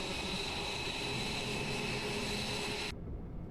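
A seaplane engine drones at full power during takeoff in the VRChat video game, a loud steady roar with a whining tone that suddenly thins and drops away near the end.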